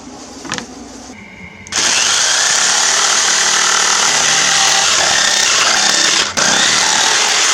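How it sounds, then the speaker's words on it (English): A jigsaw cuts curves in wood flooring for a rebuilt 1974 Avion camper, starting after quiet handling noises with a loud, steady buzzing whine that runs continuously, dipping briefly near the end before resuming. "It is now time to head back to the jigsaw"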